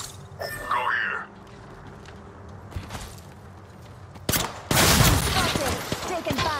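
Gunfire in the video game Apex Legends, with bursts of rapid shots, a louder cluster near the end, mixed with in-game mechanical clatter and character voice lines.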